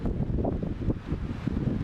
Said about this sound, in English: It's kind of spooky out here. Windy too.